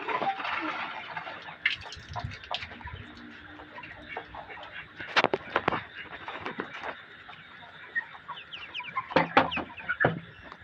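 Broiler chickens on a poultry farm cluck repeatedly nearby, a busy overlapping chorus of short clucks and squawks that comes in bursts throughout.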